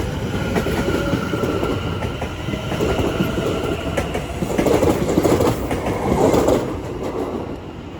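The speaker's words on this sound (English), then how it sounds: "Now departing is the 1043, Greater Anglia service to Colchester town." Greater Anglia train pulling out of Stratford station on the Great Eastern Main Line, bound for Colchester Town, with a steady rolling rumble and rhythmic clickety-clack of wheels over rail joints, swelling slightly as carriages pass close by.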